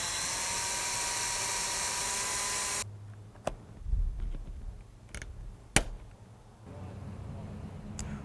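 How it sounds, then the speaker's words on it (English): A drill boring into a greenhouse frame for a rivet, a loud steady whine lasting a few seconds and then cutting off, followed by quieter clicks and handling noises. "We will now also drill and put a rivet into this point"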